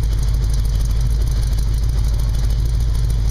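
A Jeep CJ7 Laredo with a 304 V8 and MagnaFlow dual exhaust mufflers idles steadily on a cool, humid day, a loud, continuous low rumble close to the exhaust with no talking.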